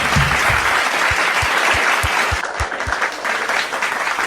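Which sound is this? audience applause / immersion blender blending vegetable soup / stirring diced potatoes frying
audience applause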